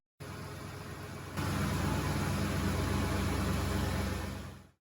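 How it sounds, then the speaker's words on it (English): The engine of a 2005 Ford F-150 King Ranch runs steadily after an oil change, a low, even idle hum that steps up slightly in level partway through and then cuts off. "After you've started the vehicle to circulate the new oil"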